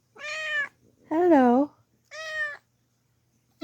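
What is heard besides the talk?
cat meowing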